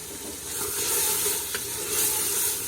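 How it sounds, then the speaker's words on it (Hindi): Chopped potatoes and finely cut green chillies going into hot oil already holding mustard seeds, giving a continuous loud sizzle and crackle with some stirring clatter throughout, and no talking. "अब मैं इसके अंदर ये जो आलू थे कट किए हुए ये ऐड करूँगी, और ये 3 से 4 हरी मिर्चें इनको मैंने बारीक कट कर दिया।"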